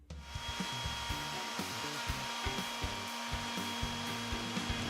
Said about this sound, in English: And a final sand over the cracks